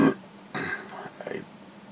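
One loud, close burp rumbles out for about half a second, followed by brief voice sounds.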